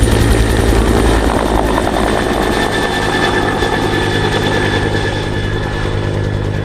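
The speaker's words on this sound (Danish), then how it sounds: "Helikopteren letter igen." A helicopter lifts off on the Faroe Islands at Store Dimun, its rotor thudding loud and steady up close with a constant engine whine throughout.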